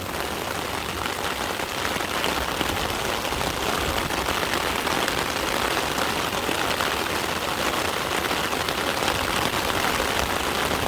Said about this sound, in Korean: 비가 많이 쏟아지기 시작했습니다